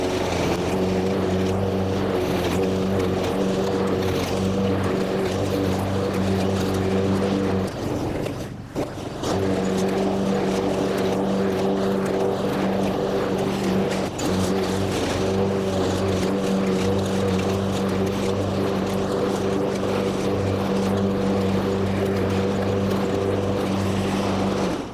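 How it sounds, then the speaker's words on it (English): A lawn mower with a grass-collecting bag cutting a lawn, a steady loud engine drone with a brief dip as the load changes, then running on evenly. "we're gonna hit it with the mower with the bag, tidy it up a little bit further, get it nice and even looking"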